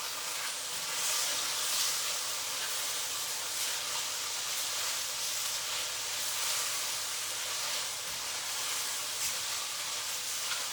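Fresh garlic frying in a pan with shallots, a steady loud hissing sizzle that continues evenly without a break, no talking.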